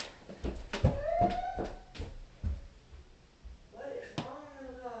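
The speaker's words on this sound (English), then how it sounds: "What is wrong with the dog?" A dog whimpers and whines in several short, rising bursts, close and fairly loud indoors, with pauses between the cries.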